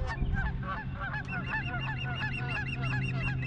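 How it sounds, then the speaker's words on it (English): A flock of geese on a river honks loudly and continuously in a dense chattering chorus while an osprey attacks them, with a low steady rumble underneath. "The birds are going crazy. There's actually an osprey attacking the geese."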